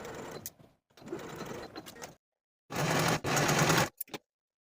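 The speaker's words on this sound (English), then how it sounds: "Sew this seam from the underarm edge to the innermost notch, backstitching to secure." A sewing machine stitches a sleeve seam from underarm to notch with backstitching on a boho top, in several short rattling runs separated by brief pauses and a few quick final taps.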